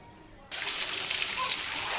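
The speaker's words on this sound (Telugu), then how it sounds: "సరే మోటార్ ఆన్ చేస్తాను" A household water pump motor switches on with a sudden onset after half a second, followed by a steady, loud rush of flowing water that continues without a break.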